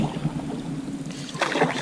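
A solo canoe is paddled on a calm lake, giving a soft water swish and gentle splash from one close paddle stroke over a quiet outdoor background.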